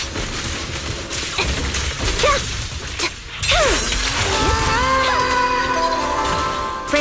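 Fire-support gunfire in the Zenless Zone Zero video game: loud bursts and crashing impacts layered with swooping game effects and ringing tonal tails, with brief gaps between volleys.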